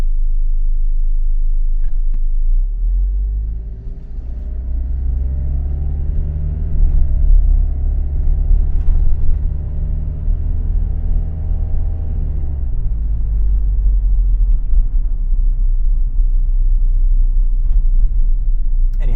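A 2001 Toyota Camroad diesel motorhome from Japan drives along, giving a steady, close low rumble of engine and road noise that continues without a break.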